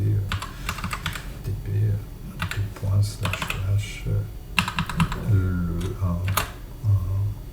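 Rapid clattering keystrokes on a computer keyboard come in bursts, close and crisp, interleaved with someone speaking French.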